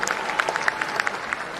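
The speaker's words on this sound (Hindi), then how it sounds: "आप एक ताली से स्वागत करिए" Applause from an audience at a state-level Jan Suraj party workshop in a Patna auditorium, a brief burst of scattered, uneven hand claps with individual claps standing out, fairly close and steady throughout.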